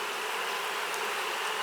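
Honey bees hum in a dense, continuous drone right at the entrance of a beehive, close and steady with no pauses and no voices.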